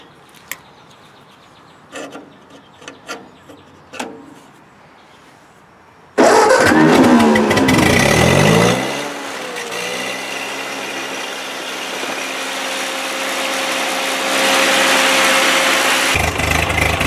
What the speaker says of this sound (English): the 12 volt coil's installed and wired up, and it's time to find out whether or not it'll crank.